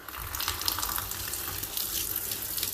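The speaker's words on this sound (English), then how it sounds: "sometimes the grime is under this plastic, and you just pour some water" Water is poured onto a plastic shower floor mat in a bathroom, a steady close splashing gush that runs unbroken for a few seconds with no talking.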